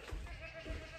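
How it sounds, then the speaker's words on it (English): A goat gives two short bleats while being milked on a small farm, fairly close over a low steady background hum. "So I've got the milker and this goat is very excited, I'm sure, to be milked."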